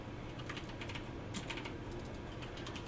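Key combinations tapped on a computer keyboard for StarCraft hotkeys: a quick run of soft clicks in irregular bursts, with a couple of louder clusters midway, close and quiet with no talk.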